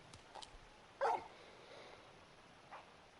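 A large dog-like wolf in the video game Final Fantasy XVI gives a single sharp bark, with a few faint yips and a soft whimper around it, over a quiet game ambience with no speech.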